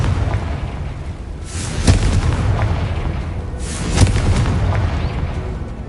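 A Confringo blasting spell explodes in the Hogwarts Legacy video game, giving two loud booming blasts about two seconds apart over a steady rumbling background.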